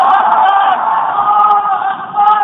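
Crowd at an Islamic sermon shouting takbir in unison, one sustained massed roar of voices held steadily and loud for a couple of seconds.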